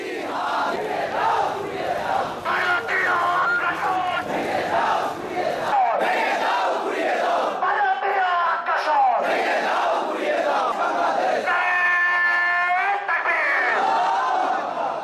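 A large crowd chants and shouts slogans in unison during an anti-India coffin procession in Bangladesh, loud rhythmic call-and-response voices filling the street continuously.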